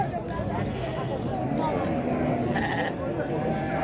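Ewe and lamb sheep bleating at a crowded livestock market, several short bleats rising over a steady murmur of traders' voices close by.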